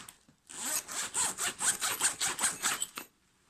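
A cheap-looking, non-branded zipper on a multi-compartment bag is pulled back and forth in a quick series of short, quiet rasping strokes, heard close with no talk.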